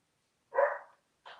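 A dog barks in the background of a busy home, with one fairly loud bark followed by a shorter, softer one after a pause.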